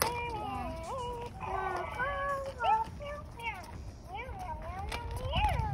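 A FurReal Walkalots Unicorn Cat toy gives repeated high, rising-and-falling electronic meows close up, nearly continuous through the stretch, with soft background noise.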